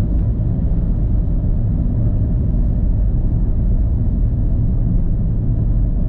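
A car driving toward the airport to be returned, heard from inside as a steady low engine and road rumble with no talk.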